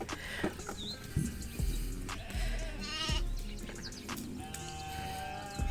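Sheep bleat repeatedly, several wavering calls rising over a busy farmyard background with occasional thumps.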